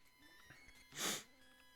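A single short sneeze bursts out near and fairly loud, standing alone against a quiet background during a live retro video game session.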